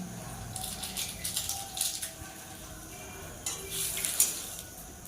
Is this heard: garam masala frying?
yes